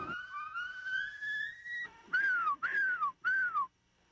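A person whistles to call horses at feeding time on a farm: one long rising whistle, then three short swooping whistles, loud and close with no talk.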